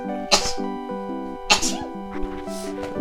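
Two sharp sneezes burst out a second apart over soft background music, followed by a smaller sniffly sound near the end.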